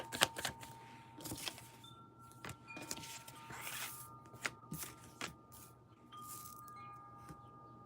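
Tarot cards shuffled by hand in a quiet room, a run of soft riffling flutters and papery slaps with light taps between them, close and fairly quiet, no talking.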